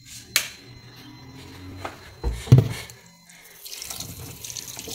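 Fern root fruit rinsed under a running kitchen tap, a soft continuous trickle of water broken by a few clunks and splashes as the fruit is handled, close and fairly quiet.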